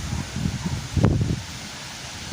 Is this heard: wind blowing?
yes